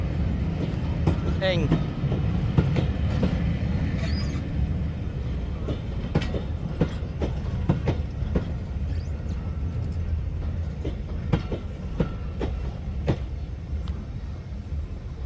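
A heritage railway train on the Bo'ness & Kinneil Railway in Scotland rumbles along the rails with a steady low roar and rhythmic clicking over track joints, heard from inside a carriage.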